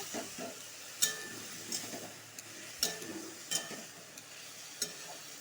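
Dry red chillies and a little ground tomato paste fry in a pan, giving a low steady sizzle broken by sharp stirring clicks and scrapes every second or so.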